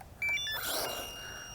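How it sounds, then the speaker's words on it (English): The buzzer on a Devo 7 radio-control transmitter sounds a quick run of short, high electronic beeps, fairly faint, followed by a brief noisy burst. "Nope, I have the buzzer on."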